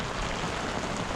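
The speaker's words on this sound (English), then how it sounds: "We're having another little rain shower come past." Rain shower at a north-sheltered anchorage, little wind, a dense steady hiss of drops falling on surfaces, even and continuous throughout the short stretch with no voices.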